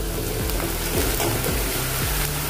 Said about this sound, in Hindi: थोड़ा सा हमने प्याज को भून लिया है।